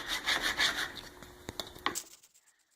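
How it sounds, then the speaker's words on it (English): A plastic scraper rasps excess wax off a downhill ski base in several quick, rhythmic strokes, close and fairly quiet, followed by a few light taps before trailing off. "Scraped off with our plastic scrapers."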